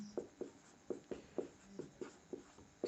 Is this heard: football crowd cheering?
no